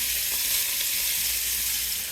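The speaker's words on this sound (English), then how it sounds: "I'm going to fry it in these sausage drippings" Turkey breast frying in sausage drippings gives a steady, close, even sizzle that hisses on without pause and without any talk.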